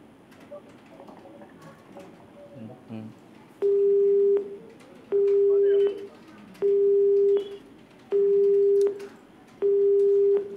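After a stretch of faint muffled noise, a telephone disconnect tone sounds after a cut call in five evenly spaced steady beeps, each about a second long with short gaps.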